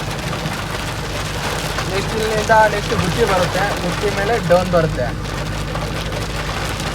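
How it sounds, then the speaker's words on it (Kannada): Heavy rain pours down in a steady, loud hiss, with someone speaking over it through the middle. "ಮಳೆನೂ ಬೀಳ್ತಾ ಇದೆ ಚೆನ್ನಾಗಿ"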